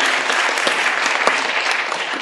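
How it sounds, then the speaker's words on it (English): Dense, even applause from a conference audience thanking the session's speakers, continuous and fairly loud for the whole stretch. "please join me for giving applause to all the great speakers today"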